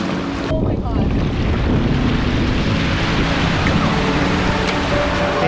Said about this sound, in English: There's like really big waves